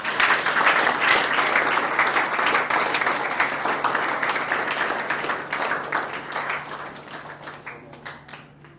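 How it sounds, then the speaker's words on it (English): An audience at an awards night applauds Charlie Ashby, sustained dense clapping from a crowd that holds steady and then tapers off toward the end. "So can we have a big round of applause for Charlie Ashby?"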